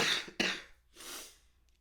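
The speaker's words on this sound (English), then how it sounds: "Sorry, I got another cough coming." Two harsh coughs close to the mic, a sharp one at the start and a second burst just after, then a softer breathy exhale as they fade.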